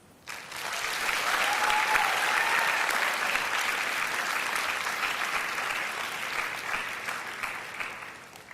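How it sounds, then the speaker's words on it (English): Sustained applause from a large audience at a high school twelfth-grade graduation ceremony, swelling quickly and holding steady for several seconds before thinning out toward the end. "please give a warm, loving applause to your biggest fans"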